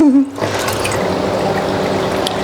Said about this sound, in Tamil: மேலே ஒரு கவர் வச்சு தண்ணி விட்டுட்ருக்கேன்